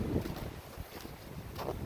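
Gusty wind buffets the microphone on the Windy Peak summit trail in Golden Gate Canyon State Park, Colorado, with a low, rushing roar, steady throughout with slight surges near the start and end.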